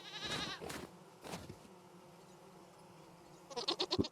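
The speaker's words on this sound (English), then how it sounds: "Yeah, baby goats!" Baby goats bleat in short wavering calls near the start, then fall quiet, with a rapid burst of high-pitched bleats close by at the end.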